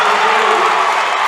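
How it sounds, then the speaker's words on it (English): Crowd roaring loudly in a Milton gym during a District 4 basketball championship game, a dense, steady wall of cheering and shouting with no breaks. "listen to this crowd here in Milton. They are coming unhinged."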